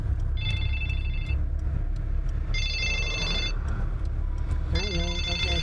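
A telephone rings with an incoming call in three separate bursts of electronic trilling, each about a second long and spaced apart. Voices talk underneath.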